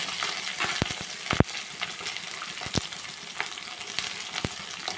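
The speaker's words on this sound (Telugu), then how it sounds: "వీటన్నిటి కూడా వేయించుకున్నాం మగ్గేదాకా వేయించుకున్నాం" Onions, green chillies, ginger and tomato fry in oil for semiya upma, a steady close sizzle broken by sharp clicks and clinks of stirring.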